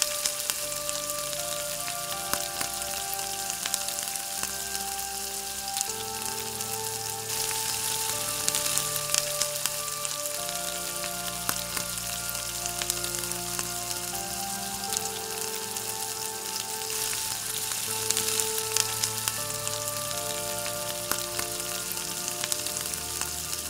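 Sliced onions deep fry in hot oil for a fish fry, making a dense, continuous, close sizzle like heavy rain, with scattered crackles and occasional stirring over the whole span; no talking.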